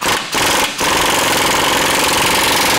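A loud power tool tightens the front crossmember bolts on a Toyota Tundra during a 7-inch lift install, with two brief rattling bursts followed by one long continuous hammering run, close up.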